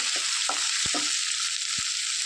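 Drumstick stir-fry with green chillies frying in a pan, a steady bright sizzle broken by a few dull knocks and scrapes of a spoon stirring, close up and with no talking.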